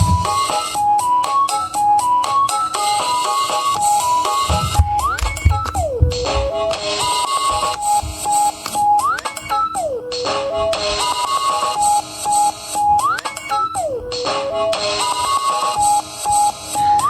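A Pocket Operator PO-33 K.O pocket synthesizer plays a bright electronic beat that loops with repeating synth melody patterns and punchy drum hits, steady and upbeat throughout with no talking.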